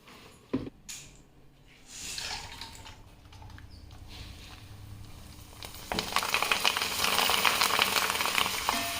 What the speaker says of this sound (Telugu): డైరెక్ట్గా ఆయిల్లో వేయకుండా ఇలా గడ్డలో వేసుకునేసి ఆయిల్లో వేసామనుకోండి ఆయిల్ చిట్లకుండా కూడా ఉంటుంది